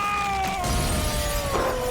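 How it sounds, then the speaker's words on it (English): Shatterproof glass shatters in a game crash, a continuous loud crunch with bright tinkling tones sliding downward, heard close and steady throughout with no talking. "Well, at least I got shatterproof glass. Oh, it's shattering!"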